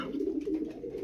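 Koca Kafa pigeons, a group of eleven large birds, give a low, continuous cooing burble, close and alone, over about a second.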